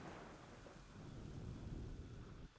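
A deep, rolling rumble of thunder with steady rain hiss in the video game Assassin's Creed III, fading slightly at the end.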